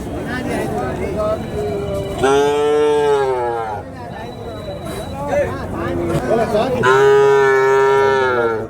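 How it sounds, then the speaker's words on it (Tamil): Heifers and cows low loudly and repeatedly at a busy cattle market, long drawn-out moos rising over a crowd babble of voices and nearby chatter. "கிடாரிகள் நல்லா அருமையான கிடாரிகள் ஜோடியாக இருக்குது கிடாரி கன்றுகள்"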